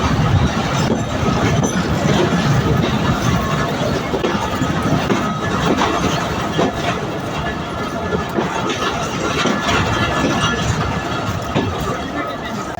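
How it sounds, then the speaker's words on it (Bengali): Tungipara Express pulling into Poradah junction station in Bangladesh, a loud, continuous rumble of rolling carriages with faint wheel squeal and rail clatter throughout. "আমাদের ট্রেনটি 36 মিনিট বিলম্ব নিয়ে বাংলাদেশের প্রথম জংশন স্টেশন পোড়াদহে প্রবেশ করলো"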